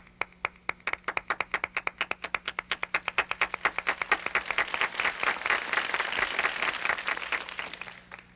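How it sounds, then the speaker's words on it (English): Many people clapping together, starting as a group's sharp synchronized claps in a quick steady beat, then swelling into a loud, dense wash of applause that lasts until it stops abruptly at the end. "I wonder what it would sound like if we could hear everybody clapping."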